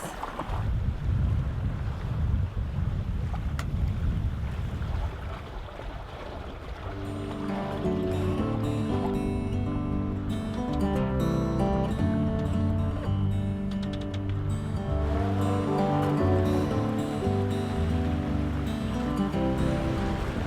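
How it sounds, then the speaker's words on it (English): Wind rising around a sailboat as it is squeezed against an island, steady close rushing gusts buffeting the microphone with water noise beneath, heard without talk. "Now the wind is picking up again."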